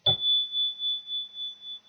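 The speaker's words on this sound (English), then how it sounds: "she heard a strange little sound. It sounded like the tinkle of a bell." A small bell is struck once with a soft, brief tinkle, then keeps ringing as a thin, high, clear tone that sustains and slowly pulses for nearly two seconds.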